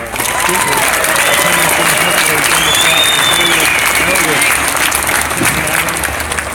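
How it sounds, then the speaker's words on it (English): Loud, sustained applause from a large crowd at a gun-rights rally in Ohio, steady clapping and cheering filling the whole stretch without letup. "Give her a big round of applause."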